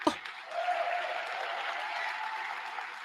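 An audience at a political party conference breaks into applause after a sharp opening sound, with steady, moderately distant clapping that holds for about three seconds.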